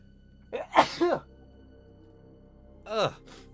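Close, loud human sneezes: a quick double burst with a sharp intake, then a single sneeze a couple of seconds later against a quiet background.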